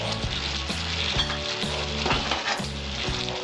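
Mustard paste and green chilli paste, with sugar, being stirred into a pan of cooked flat beans and potato for a Bengali sim shorshe curry, giving a steady close sizzle with repeated rhythmic scrapes of the spoon against the pan.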